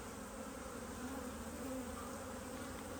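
Honey bees hum steadily over a frame of capped brood with young bees emerging, a dense close buzzing drone that holds constant throughout without voices.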